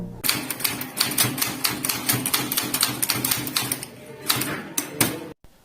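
Keys are struck on a manual typewriter while typing English text, in rapid close-up bursts of sharp clacks with a short pause before a final flurry.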